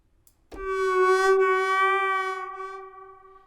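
A single synthesizer tone from the Arturia Buchla Easel V starts abruptly and holds, its pitch bending and wavering noticeably before it fades out over a few seconds.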